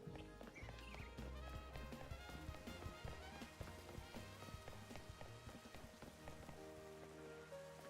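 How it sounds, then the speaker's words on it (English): Rain falls in the Pokémon Legends: Z-A video game, a steady patter spread under busy game music and effects, faint and continuous without talk. "Oh, it's raining."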